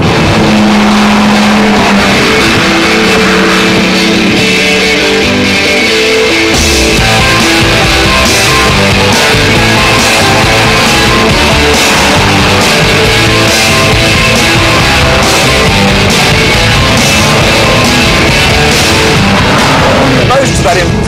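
A Porsche 911 Turbo with 420 horsepower drives at high speed, its engine note loud and steady throughout alongside heavy road and wind roar, with a voice talking over it.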